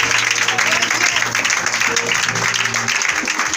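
Church congregation applauding and cheering to acclaim the Lord, a steady loud wash of clapping and crowd noise over a low sustained tone throughout.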